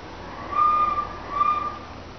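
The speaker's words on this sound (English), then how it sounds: "every time a gust of wind comes, it's like whistling." Two thin, steady whistling tones, each lasting about half a second, rise over a low, hissing wind bed, like gusts whistling past, in the video game Toontown.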